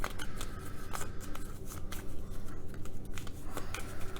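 A small deck of playing cards for a solo tabletop game is shuffled steadily and close up, a run of soft riffling and shuffling rustles with no talk.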